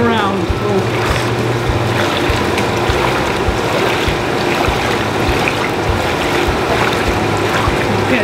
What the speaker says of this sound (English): I am just in the water, floating around, folks.